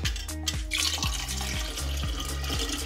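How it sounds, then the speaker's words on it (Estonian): Cold water poured into a jug for homemade peach lemonade with sugar and lemon juice, a steady gurgling splash with rising tones as the container fills, close-up and continuous, with no talking. "Ning 1000 milliliitrit külma vett."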